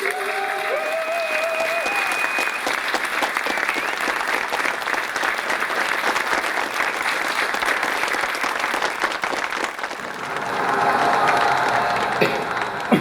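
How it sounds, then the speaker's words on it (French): A ciné-concert audience applauds steadily to welcome performer Pascal Cardeillac, a dense, sustained roar of many hands lasting throughout and swelling slightly near the end, with faint tonal sounds at the start. "je vous demande d'accueillir avec vos applaudissements"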